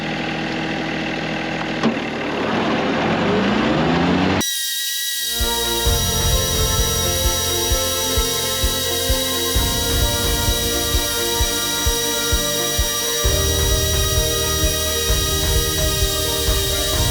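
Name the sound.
tractor with hydraulic mower mowing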